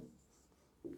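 Chalk or marker scratches across a board during a physics lecture on collisions, two soft, brief strokes with a quiet gap between them, faint and close, with no talk.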